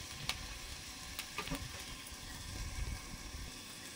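Mustard oil sizzles in a pan while a sour dish of snakehead fish with raw mango is being cooked, giving a faint, steady frying hiss with a few small pops and stirring scrapes.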